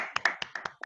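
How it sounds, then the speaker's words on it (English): A handful of people clapping in a short round of applause, sharp irregular hand claps about eight in under a second, faint and close. "I think everybody needs to unmute and give this round of applause."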